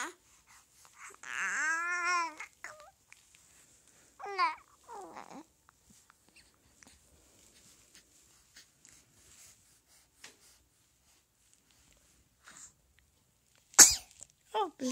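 A baby sneezes in a quiet room, one sharp brief burst late in the clip, after babbling and an adult's soft talk earlier.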